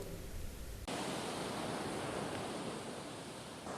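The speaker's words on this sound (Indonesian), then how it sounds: "Cuaca buruk dan gelombang tinggi sejak beberapa hari terakhir menerpa pesisir pantai" High sea waves driven by bad weather pound an eroding coastline in a village in Aceh Barat Daya, a loud, continuous rushing roar of surf close by with no voices.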